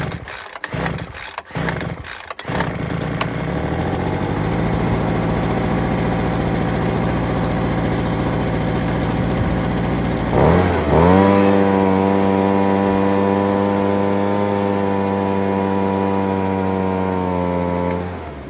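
A Ryobi leaf blower's small two-stroke engine, running on old varnished fuel, sputters through a few rough pulls and catches, then runs loud and steady up close, its pitch rising partway through and settling into a sustained high buzz.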